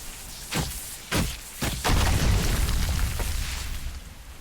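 A wind totem blows apart in World of Warcraft Dragonflight, a few sharp thumps leading into a loud booming explosion with a long rumbling tail that slowly fades.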